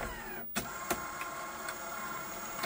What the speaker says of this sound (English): So I'm gonna put the tape in.